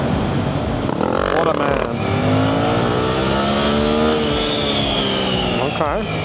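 A Suzuki GSX-8R motorcycle engine revs up, drops briefly at a gear shift, then climbs again in a steady rising whine, heard close from the rider's position with wind noise and a short spoken exclamation.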